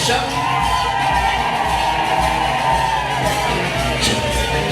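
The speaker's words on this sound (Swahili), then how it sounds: "Vigelegele kwa kina mama." Women at a wedding let out loud, sustained ululation amid a cheering crowd, a dense wall of trilling voices close by with no pause.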